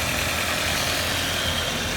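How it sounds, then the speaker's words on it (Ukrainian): A 1997 Volkswagen Passat B5 engine idles nearby as an even, low, continuous hum with a slight pulsing texture and no talking. "Дуже доброму стані працює мотор."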